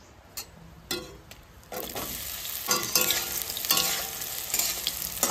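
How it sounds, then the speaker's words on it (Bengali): Soya chunks dropped into hot oil seasoned with bay leaf and cumin, with a few sharp clinks and then a loud, steady frying sizzle that swells and crackles up close. "সোয়াবিনটা সুন্দর করে লাল লাল করে ভেজে নেবো"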